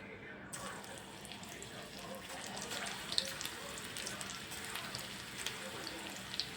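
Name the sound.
raw banana chips frying in oil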